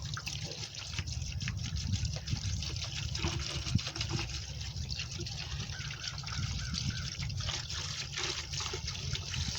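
Vinegar pouring from a gallon jug into a hardware-store bucket, a steady continuous trickle and splash close by.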